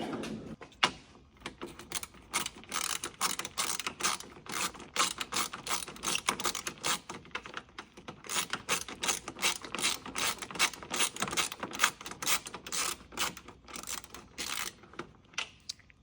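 Close-up ratcheting and clicking of a hand tool tightening a loose headlight bolt on a Mercedes C63s AMG, rapid repeated mechanical clicks running steadily throughout with brief pauses.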